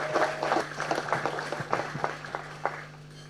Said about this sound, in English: So if everyone could give her a little clap